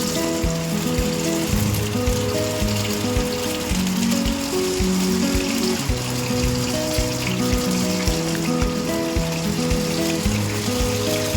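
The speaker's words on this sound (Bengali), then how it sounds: "লাল লাল করে আমি পনিরগুলোকে ভেজে নেব।" 250 grams of coated paneer pieces fry in a kadai, giving a steady, dense sizzle that runs unbroken under tonal background music.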